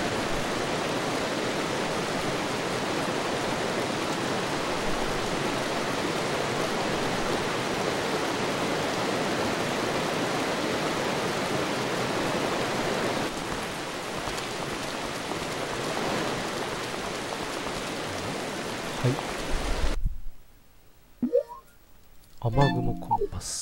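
Steady heavy rain pours in the PS2 game Zettai Zetsumei Toshi 2, a dense continuous hiss that fills most of the stretch before cutting off abruptly near the end, leaving brief quieter game sounds.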